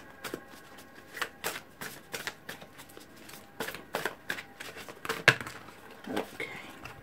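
Tarot cards are shuffled close up in soft, irregular riffles and flicks that continue for several seconds without speech.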